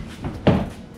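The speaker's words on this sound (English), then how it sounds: "And you can tell just by opening the door," A Lexus SC300/SC400 door swings open on a worn hinge and gives one short, close pop midway through, with a quiet background before and after.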